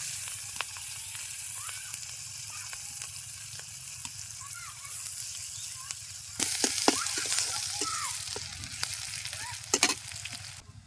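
Onion and chili fry in a pan with fish in a village kitchen, a steady sizzle with soft crackles and stirring scrapes that grows louder and busier partway through.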